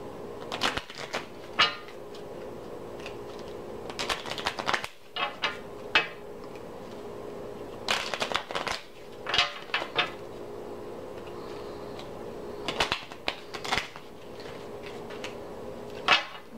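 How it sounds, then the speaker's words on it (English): Tarot cards being shuffled and handled in repeated bursts of crisp riffling and slapping, close and fairly quiet, recurring every couple of seconds over a steady room hum with no talking. "so let's pull some cards"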